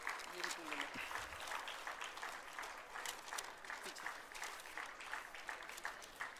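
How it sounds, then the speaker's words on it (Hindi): Audience applause at a national Jeevan Vidya gathering in Nagpur, a quiet, distant patter of many hands clapping steadily, with a voice briefly speaking near the start. "तालियां बजती रहनी चाहिए दोस्तों।"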